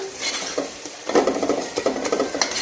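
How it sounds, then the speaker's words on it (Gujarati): Spiced rice being stirred in a hot pan with turmeric and coriander-cumin powder, giving repeated scraping, clinking stir strokes over a soft sizzle after a quieter opening. "હવે આને સરસ આપણે મિક્સ કરી દઈશું"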